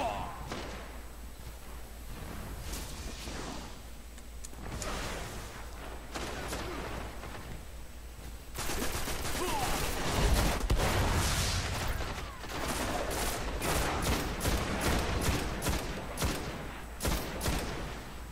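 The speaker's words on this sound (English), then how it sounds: "Who is shooting me?" Enemy gunfire pelts the player in the Destiny shooter game: dense bursts of rapid shots and impacts, heaviest in the second half, under excited voices talking.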